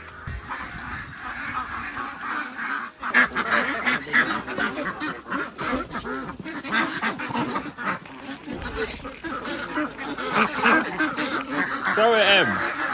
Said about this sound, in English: The duck stop is essentially just a giant duck farm that allows you the opportunity to feed the ducks